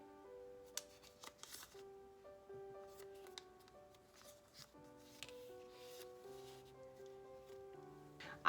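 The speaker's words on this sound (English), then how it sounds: "all I'm doing is folding this in half" Paper being folded in half for an origami bat gives a few faint, brief crinkles and rustles, scattered over soft, steady background music, with no talking.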